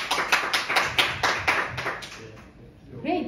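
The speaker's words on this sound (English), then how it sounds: "may I hear as a round of applause who are from Turkey" Audience members clap in a scattered, rhythmic burst at a talk, a few distinct hand claps repeating for a couple of seconds before fading, then a voice speaks at the end.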